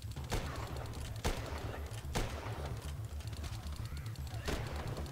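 Bursts of gunfire from the Last Stand Union City video game, several sharp shots standing out over a steady rumbling soundtrack with a low rhythmic pulse, heard alone without talk.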